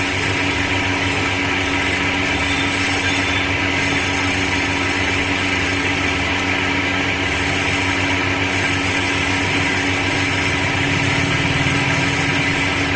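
A stone wet grinder runs with a steady, loud mechanical hum and whine that stays constant throughout, with no speech.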